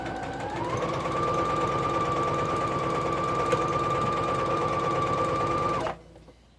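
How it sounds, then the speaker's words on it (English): A smooth-running domestic sewing machine with 99 stitch settings stitches lined kitchen curtains, a steady mechanical whir with rapid needle rhythm holding for several seconds before stopping abruptly. "But it is a smooth operating sewing machine"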